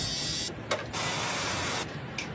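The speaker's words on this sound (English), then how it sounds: "That's a trimmer you can use for shaving your beard." An electric beard trimmer runs with a steady close buzzing hiss, briefly cutting out twice and restarting, with no talk.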